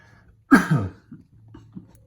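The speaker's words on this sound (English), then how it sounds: "my cough from the black pepper did not go away" A single sharp, loud cough, irritated by black pepper, bursts out close by, followed by a softer throaty rasp, then quiet breathing and faint low murmurs.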